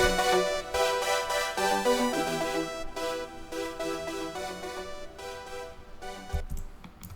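A bright synth melody plays on its own, gradually getting quieter as it goes, ending in a soft trailing note.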